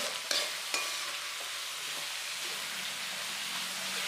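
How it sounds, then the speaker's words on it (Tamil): Chopped onions and garlic sautéing in hot oil for chicken handi masala, a steady close sizzle with a couple of sharp stirring clicks near the start, no voices. "இந்த வெங்காயம் எல்லாமே அந்த பூண்டு கூட சேர்த்து இந்த எண்ணெயிலையும் நல்லா வதக்கி எடுத்துக்கலாம்."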